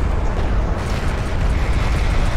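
Artillery barrage in the real-time strategy game Homeworld: Deserts of Kharak, a dense, continuous rumbling roar of overlapping explosions, loud and heavy throughout without a pause.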